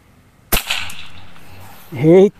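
One sharp crack from an air rifle fitted with an FX Liner barrel, close and loud with a brief decaying tail, followed moments later by a short tonal voice exclamation.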